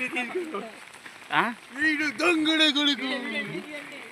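Heavy rain falls steadily in Pedakakani, Guntur district, as a soft, even hiss beneath someone talking loudly close by.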